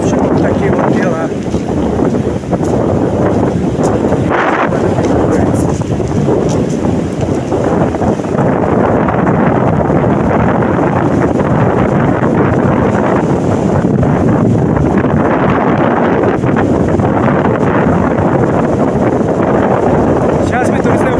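Strong gusting wind at a stormy seaside roars loudly and continuously against the microphone, with heavy sea surf rumbling underneath.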